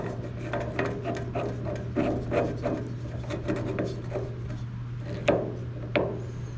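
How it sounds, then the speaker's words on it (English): Grinding down the edge of a restored hidden gas tank: repeated rasping, scraping strokes at close range in an uneven rhythm, over a low steady hum, with no talking. "I can grind it down just a little bit more around that edge"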